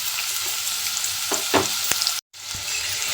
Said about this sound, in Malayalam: ഇതിലേക്ക് നമ്മൾ നേരത്തെ ചതച്ച് വെച്ച ആ ഉള്ളി, ഇഞ്ചി, വെളുത്തുള്ളി, കറിവേപ്പില ആ കൂട്ടങ്ങൾ ചേർത്ത് കൊടുക്കാം.